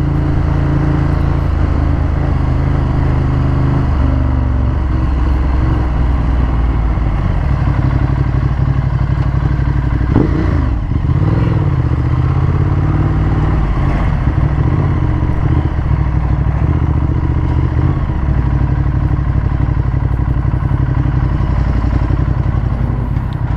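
A 2015 Ducati Monster 1200S with Ohlins suspension is ridden with a steady, loud engine drone and wind rush throughout, the revs rising and falling slightly midway, and no talking.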